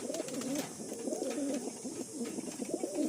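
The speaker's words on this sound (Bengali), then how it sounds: "আসুন আমরা ছেড়ে দেখাই পায়রাগুলো" Madrasi and Giribaj pigeons coo steadily at close range in a loft, a continuous layered murmur of soft rolling calls without a break and with no talking.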